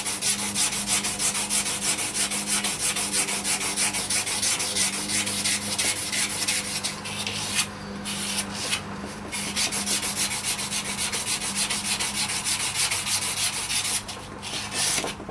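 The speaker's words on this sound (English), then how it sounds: "sanding with a block, especially like a steel slug or something like that, will prevent you from having a seam here" A steel knife blade is hand-sanded on a sanding block in rapid back-and-forth strokes, a continuous close, loud rasping rub with brief pauses and no talking.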